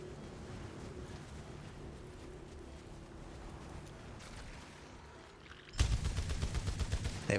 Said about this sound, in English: Something's already shooting at me!